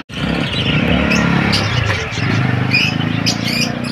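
Many budgerigars chirp in a bird shop, a dense, steady chatter of small bird calls close by with brief sharper tweets over a constant background hum.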